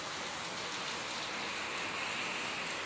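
Heavy rain pours steadily outside, a dense, even hiss of drops on surfaces with no pauses and no voices.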